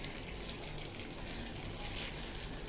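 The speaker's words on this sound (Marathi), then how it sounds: "याच्यामध्ये मी घालते मोहरी" Mustard seeds sizzle in a generous amount of hot oil in a pan while misal is being cooked, giving a steady, dense crackling hiss that runs the whole time without any talking.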